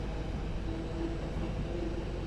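A West Midlands Railway Class 323 electric train running, heard from on board as a steady, dense rumble of wheels and motors with a faint whining tone drifting through the noise.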